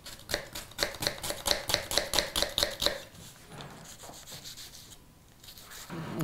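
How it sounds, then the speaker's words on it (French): A knife chops shallots on a board in a quick, even run of close, crisp taps for about three seconds, then quieter scraping and handling noises follow. "Dans un premier temps, on va hacher nos échalotes."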